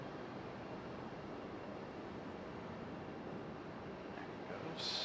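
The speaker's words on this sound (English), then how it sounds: "Got another Avello leaving off the backside over here." An Avelo airliner departs from the far side of Raleigh-Durham International Airport, its engines a steady, distant broadband roar that holds level throughout with a slight brightening near the end.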